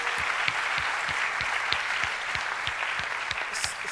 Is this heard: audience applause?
yes